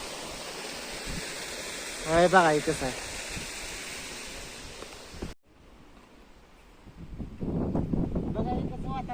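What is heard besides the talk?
water falling, waterfall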